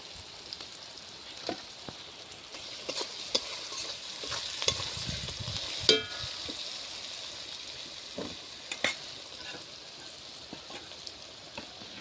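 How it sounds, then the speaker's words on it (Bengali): Onions frying in mustard oil in a home kitchen, a faint continuous sizzle with scattered light stirring clicks and an occasional sharper clink, close and quiet without voices. "পেঁয়াজটা ভাজা হতে থাক"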